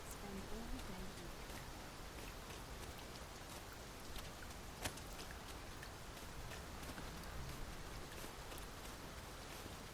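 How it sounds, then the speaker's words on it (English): Rain falls steadily in the video game Dragon's Dogma 2, a soft, constant hiss of drops at moderate level with scattered faint patters. "It started raining, Master."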